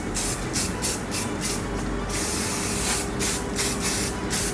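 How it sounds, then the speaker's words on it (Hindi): Hairspray is sprayed onto braided hair in short repeated bursts: a close, loud airy hiss pulsing in quick spurts, then a longer continuous spray, then more quick spurts. "थोड़ा सा स्प्रे दे देती हूँ जब तक हम बैक वर्क कंप्लीट कर लेते हैं।"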